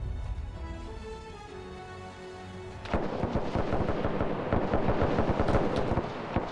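Gunfire in a WW2 shooter game, set in a battle between ANZAC and Italian forces in Ethiopia: a low steady hum gives way after a few seconds to dense, rapid bursts of sharp cracks and booming shots, loud and continuous.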